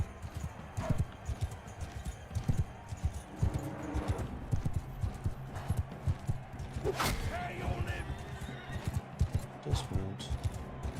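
Horse hooves clip-clop in Mount and Blade 2: Bannerlord, a steady stream of hoof strikes at a trotting rhythm, with occasional clanks and other game sounds mixed in.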